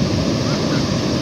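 Large waves crash continuously on the shore at Tondaligan Beach in Dagupan, Pangasinan, a dense, roaring surf wash with wind buffeting the microphone throughout.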